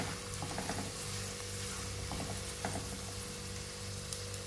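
Fenugreek powder and asafoetida powder sizzle in hot oil for a sweet and sour Kerala-style lemon and dates pickle, a steady close frying hiss with faint stirring clicks and no voices.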